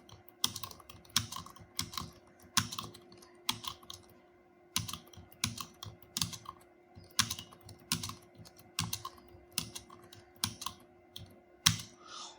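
Steady typing of Hindi text on a computer keyboard, with rapid key clicks in uneven bursts and short pauses, close and clear with no talking.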